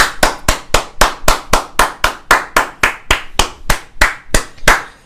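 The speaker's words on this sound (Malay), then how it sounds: "Tepukan." Hands clap in a sharp, steady rhythm, about three crisp slaps a second, loud and close, each one ringing briefly before the next, with no talking.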